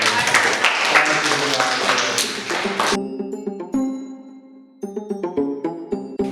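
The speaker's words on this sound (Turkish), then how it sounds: "Büyük bir alkış." Children and adults give a big round of applause during a library visit. Dense clapping fills the first few seconds, then cuts off, leaving bright pinging taps and ringing tones.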